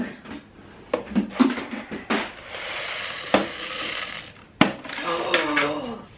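Dry orange lentils clatter and patter into a dish in short bursts, with spoon scrapes and taps, close by, as people talk in the background.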